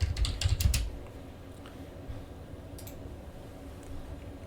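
A short flurry of computer keyboard keystrokes as a search is typed on a Windows PC, with quick close clicks at the start and a few scattered taps afterward, no speech.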